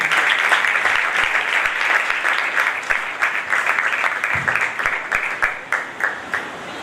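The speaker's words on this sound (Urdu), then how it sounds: "خدا کے لیے، خدا کے کلام کے لیے اور خدا کے بندہ کے لیے زوردار تالیاں" A church congregation at a first-anniversary service of the Assemblies of God church in Malir, Karachi, Pakistan, claps loudly and continuously for several seconds. The dense crowd applause thins slightly into more distinct individual claps toward the end.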